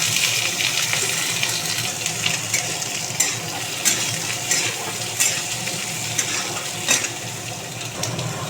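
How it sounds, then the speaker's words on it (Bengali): Chopped potatoes fry in hot oil with dried chilli and panch phoron, giving a steady close sizzle with regular scraping stirs of a utensil breaking through. "ফোড়নটা একটু নাড়াচাড়া করে নিয়ে ফ্লেভারটা বেরিয়ে গেলে দিয়ে দেব কুচিয়ে রাখা আলুগুলো।"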